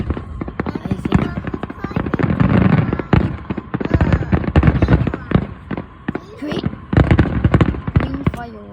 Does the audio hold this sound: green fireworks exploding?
yes